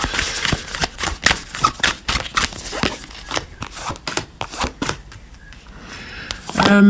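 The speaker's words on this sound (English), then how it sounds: "so let's shuffle these up and then pull 3 piles" Rapid crisp riffling and slapping of tarot cards, a dense run of sharp papery clicks with brief pauses, close and fairly loud, no talking.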